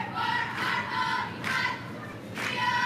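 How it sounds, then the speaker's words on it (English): A group of high school cheerleaders at a live event shout three rhythmic cheers in loud bursts, spaced about a second apart against crowd noise. "Give us some cheers, girls."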